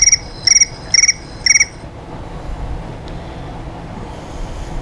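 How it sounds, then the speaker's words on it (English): Four short bursts of cricket chirps pulse at an even rhythm, fairly loud at first, then fade into a low, continuous outdoor hiss. "Oh, crickets."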